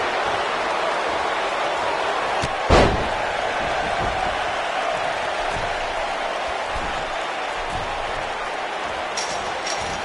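A steel cage door slams shut in a WWE wrestling video game with one sharp, loud metallic bang, set against a constant wash of arena crowd noise.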